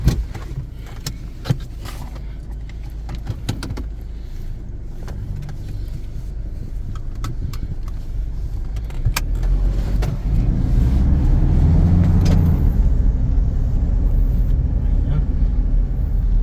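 A Toyota Innova driving on a road, a steady low engine and road rumble that grows slightly fuller partway through, with people talking over it inside the cabin.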